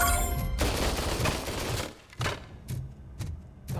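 Gunfire from a weapon in the game RoboCop Rogue City, a dense rapid burst rattling for about two seconds, then several separate loud single shots spaced apart, close and punchy.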